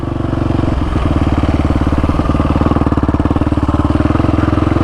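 Can-Am DS450 quad engine running with a steady, rapid, throbbing mechanical pulse and clatter, loud and close throughout, with no talking.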